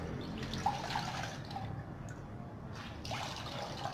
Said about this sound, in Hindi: मैंने अभी इसके अंदर से तकरीबन थोड़ा सा पानी निकाल लिया